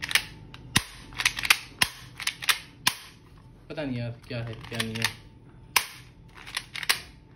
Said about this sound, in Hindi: ओ देखो अपने आप गोलियां निकल रही हैं यार